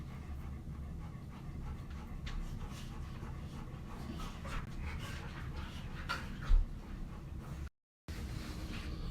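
Dogs pant rapidly and shuffle about nearby, a steady breathy rhythm with small movement noises, fairly quiet throughout and briefly cut out near the end.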